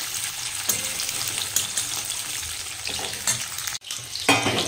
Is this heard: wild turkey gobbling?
no